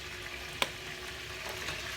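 Curry chicken frying in a pan with black pepper, a steady broadband sizzle throughout with one sharp click of a utensil partway, no voices.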